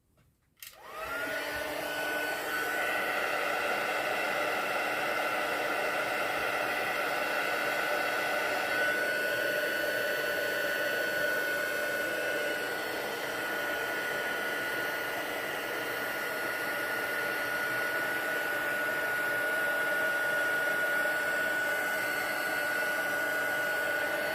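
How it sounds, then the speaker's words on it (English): Steady, loud rushing blast of hot air from a heat embossing tool held over a stamped birthday card, running continuously for the whole stretch with no talk. "Just love heat embossing."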